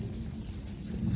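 Low, continuous rumble of distant thunder rolls beneath steady rain on a rainy afternoon, fairly faint and swelling slightly toward the end.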